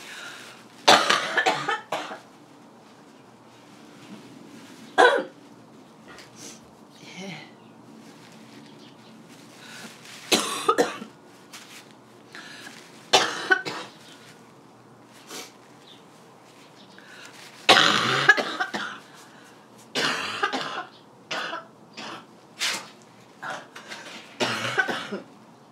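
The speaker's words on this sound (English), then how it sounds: "My cough's getting a lot better." Scattered bursts of coughing, some single and some in quick clusters, separated by quiet pauses, close and fairly loud with no talking.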